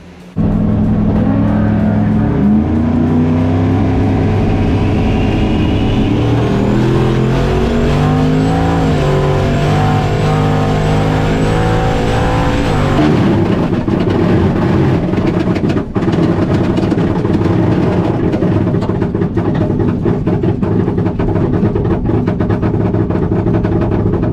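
An all-wheel-drive Foxbody launches down a drag strip, its loud engine climbing in pitch through the gears before the transfer case fails near the eighth-mile at 108 mph, leaving a rough, droning roar.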